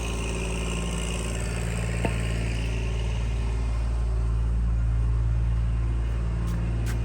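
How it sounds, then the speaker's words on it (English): A tractor engine rumbles steadily in a garden, a low continuous drone that holds at an even, fairly loud level throughout with no voices. "Besides coming down here with his noisy tractor, hey Pondo."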